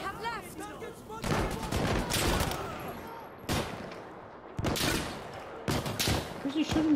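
Bursts of gunfire in the video game Insurgency: Sandstorm, several loud volleys of shots separated by short pauses, with a player's voice heard between them.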